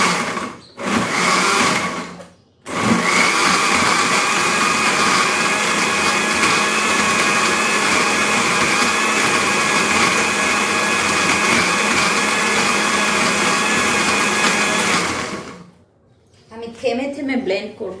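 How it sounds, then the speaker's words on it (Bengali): A blender whirs milk with dates and a pinch of salt: a brief pulse, then a loud, sustained roar lasting about thirteen seconds before stopping, followed by a moment of quieter clatter. "এখন আমি দুধটাকে ভালো করে ব্লেন্ড করে নিব, আমি অন করে দিচ্ছি।"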